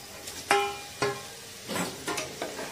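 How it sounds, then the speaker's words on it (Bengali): Lentils for khichdi are stirred in a pan, a handful of distinct scraping clinks of the spoon against the metal with a faint sizzle beneath, close up and no talking. "একটুখানি নাড়িয়ে নেব"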